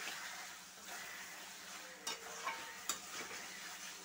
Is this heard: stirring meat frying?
yes